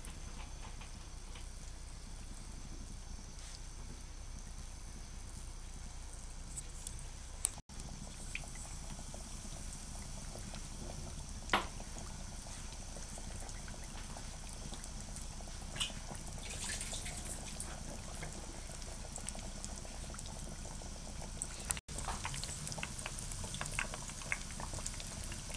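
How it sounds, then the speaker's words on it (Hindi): Vegetable cutlets frying in oil over a medium flame in a Pakistani home kitchen, giving a steady, continuous sizzle and bubbling with a few small pops, heard close and alone. "अब इनको फ्राई करते हैं।"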